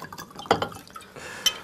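Purified water handled for an experiment, with small liquid splashes and drips and light glassy clinks against a container.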